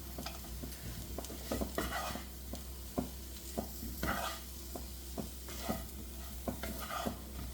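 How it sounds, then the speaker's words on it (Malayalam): A spoon stirs potato roast through masala in a sizzling pan, with a steady frying hiss beneath repeated scraping strokes that come every half second or so, close and clear. "കുറച്ച് സമയം ഇതുപോലെ മിക്സ് ചെയ്യണുണ്ട്"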